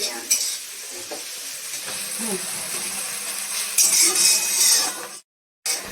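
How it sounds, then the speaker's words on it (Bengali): Onions softening in a pan while being stirred, a steady close sizzle with scraping and occasional clinks of a utensil, brightening toward the end before a brief cut to silence. "যা একটু নরম করে নিতে হবে পেঁয়াজটা"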